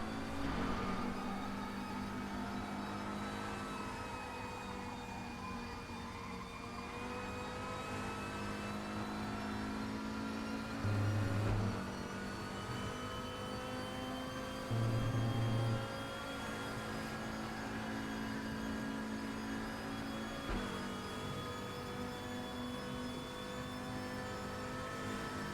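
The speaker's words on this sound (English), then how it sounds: "leave you just with the engine sounds for the next 5 minutes" A race car engine drones steadily in a racing video game on a road course, a continuous whining tone that rises and falls through gear changes, with a couple of short thumps and no talking.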